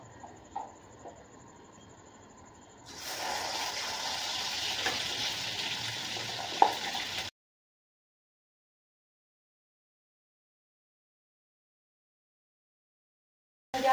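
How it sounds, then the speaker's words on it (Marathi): Ground masala for dry chicken roasting in an iron kadai, heard as a steady close sizzle and crackle for about four seconds before dead silence. "त्या रशाचा पण मसाला आणि सुक्याचा मसाला आपण एकाच कढईमध्ये भाजून घेणार आहे"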